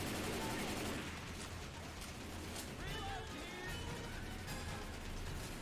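Dense gunfire in the video game Left 4 Dead 2, Dead Before Dawn add-on campaign, rolls as continuous overlapping shots and crashes under a voice speaking throughout.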